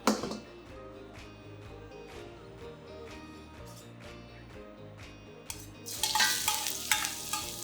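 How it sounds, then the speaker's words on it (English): Ginger and garlic hit hot oil in a wok heated over medium heat. A spatula scrapes and stirs in steady strokes, and a bright, loud sizzle swells near the end. "That's the ginger and the garlic, and stir fry it for about 20 seconds or so till they are fragrant"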